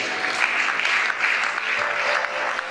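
A church congregation applauding the Lord, loud sustained clapping from many hands filling the room without pause.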